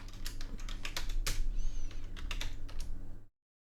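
Fingers type on a computer keyboard, a quick irregular run of close, crisp key clicks with a few heavier strokes, ending abruptly.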